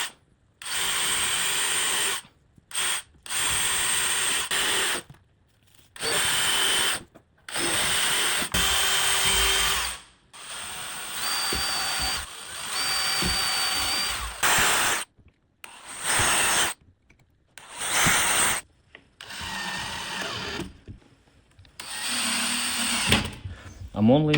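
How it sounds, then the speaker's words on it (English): A power drill whines in repeated short bursts with brief silent pauses between, close by, as it bores holes into a wooden door slab. "I'm gonna start drilling holes in a door slab and in the frame"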